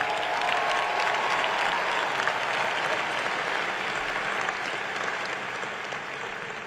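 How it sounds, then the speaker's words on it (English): Sustained applause from a large audience at a university commencement ceremony in a big hall, a dense steady roar of clapping that fades slightly toward the end, with no talking over it. "let us give our alum a warm round of applause and welcome"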